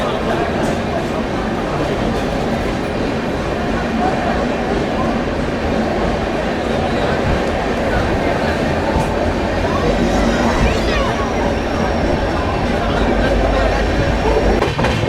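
Train 12295 SMVT Bengaluru–Danapur runs steadily after departing Satna Junction, a continuous loud rumble with rail rattle heard from inside the carriage, with faint voices in the background.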